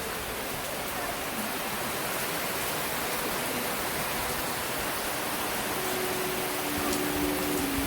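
Heavy rain driven by strong wind makes a dense, unbroken roar that stays loud and even throughout, with a faint voice briefly audible near the end.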